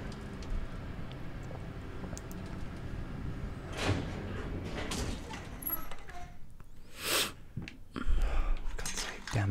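A door creaks and thuds open in the horror video game Layers of Fear, with a couple of scraping, knocking bursts amid quiet room ambience.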